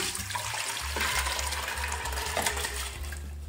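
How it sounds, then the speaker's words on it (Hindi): Water saved from soaking mixed lentils is poured into a cooking pot, giving a steady splashing, gurgling pour that runs throughout, with a low repeated hum beneath it in a home kitchen. "सबसे पहले ये पानी इसमें मैंने दाल भिगोई है वही पानी इसके अंदर डालेंगे।"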